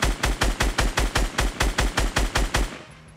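Rapid automatic gunfire in Fortnite, a burst of about fourteen evenly spaced loud shots in quick rhythm before cutting off into a short tail.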